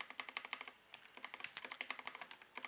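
Keys clatter on a computer keyboard in quick, close, moderately quiet taps, with short runs of keystrokes and brief pauses between them.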